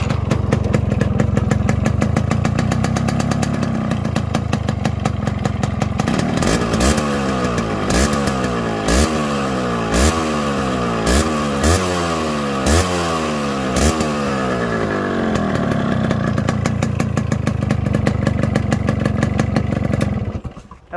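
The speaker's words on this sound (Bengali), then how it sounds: "দেখেন এই বাইকটার সাউন্ড অনেক সুন্দর" A Yamaha RX-S 115 two-stroke motorcycle engine runs loud and close throughout, settling into a steady idle before being blipped through a rapid series of sharp revs, then falling back to idle and cutting off at the end.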